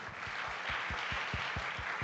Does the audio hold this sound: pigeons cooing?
no